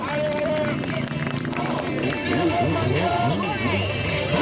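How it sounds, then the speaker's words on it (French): Spectators at a jet ski event in Challans in 2011 clap and cheer for a rider, a dense crowd roar with applause mixed under a loud announcer's voice and a rising, falling engine-like drone. "Allez, on l'encourage, on l'applaudit"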